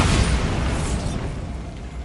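A booming Bombarda spell explosion in the video game Hogwarts Legacy, a loud, broad blast whose roar fades slowly over about two seconds, with no talk.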